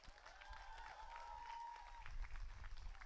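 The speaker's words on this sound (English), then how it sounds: "Please give yourselves a huge round of applause" Scholars at a women's programme convocation ceremony receive a round of applause, a soft, distant patter of clapping from a modest crowd, with a faint tonal whistle-like sound riding over it briefly.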